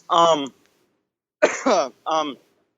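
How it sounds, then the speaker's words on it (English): A person coughs close by, with three rough, throaty bursts, one alone and then two close together. "I have a bit of a cough"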